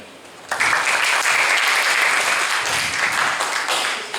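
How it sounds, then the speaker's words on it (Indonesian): A crowd bursts into sustained applause, steady and loud, filling the room for several seconds after a brief quieter moment. "Tepuk tangan."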